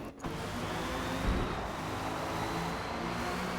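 Racing cars overtaking on a track in a racing video game, touring cars among them: a continuous loud engine drone with a rising tone as the cars run close together, no talking.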